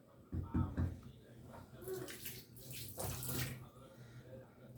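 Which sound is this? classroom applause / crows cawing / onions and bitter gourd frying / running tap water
running tap water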